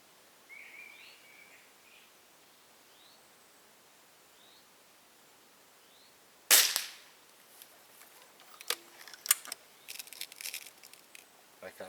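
A single sharp crack from an FWB air rifle firing a pellet with a damaged skirt down range at an outdoor 45-metre shooting setup, loud and close after a quiet start, followed by faint clicks and handling noises.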